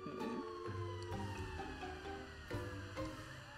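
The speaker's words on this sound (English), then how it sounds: "Was that another fire truck?" A wailing fire truck siren in the video game GTA 5 sweeps down in pitch over a busy engine rumble and scattered clatter, steady and moderately distant.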